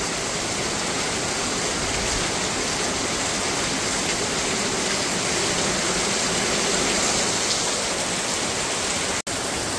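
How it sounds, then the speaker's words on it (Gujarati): Heavy rain pours onto corrugated metal roof sheets, a dense, loud, unbroken roar of drumming water that holds steady throughout with no voices. "જ્યાં ઉપર પતરા નાખેલા છે એની ઉપર પાણી પડે ને વરસાદનું, એનો અવાજ કેટલો આવે, ફૂલ એટલે ફૂલ અવાજ આવે છે"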